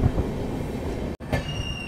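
A Hyderabad-to-Bijapur train at a railway station under construction gives a steady rolling rumble with a high wheel squeal, broken by one abrupt instant of near-silence before the clatter resumes.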